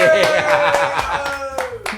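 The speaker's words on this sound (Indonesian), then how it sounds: "Woi, tepuk tangan." A small group claps for a guest arriving on a casual talk show about selling cigars in a village, with brisk uneven hand claps over voices and a little laughter.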